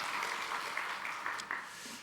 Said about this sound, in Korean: 우리 박수 한 번 더 합시다